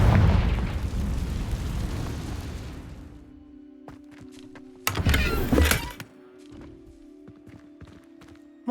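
A Confringo fire spell explodes in Hogwarts Legacy, a broad roaring burst that decays over a few seconds, followed by a second short blast amid footsteps and quieter game ambience.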